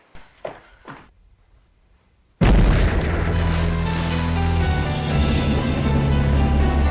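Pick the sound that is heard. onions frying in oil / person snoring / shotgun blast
shotgun blast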